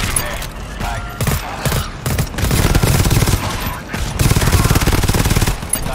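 Rapid machine gun fire in the co-op shooter game GTFO sounds as dense, loud bursts of repeated shots that run nearly nonstop with brief gaps between volleys.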